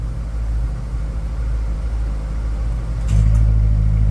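A 2010 Corvette Grand Sport idles steadily after a cold start, a deep low rumble close by that grows noticeably louder and fuller near the end.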